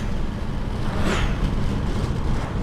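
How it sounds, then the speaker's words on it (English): Inside a moving car at steady speed, road and engine noise forms a constant broadband rumble and hiss, swelling briefly as something passes, with no one talking. "here's simply the noise in the car recorded with the H1N"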